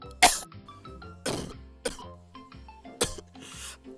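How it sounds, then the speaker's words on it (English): Several harsh coughs from one person, close and fairly loud, about four bursts spaced across a few seconds with short quiet gaps between them. "I've been coughing since yesterday."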